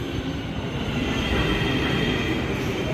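Hyderabad metro train running: a steady loud rumble of wheels and carriage noise throughout, close and continuous, with no speech.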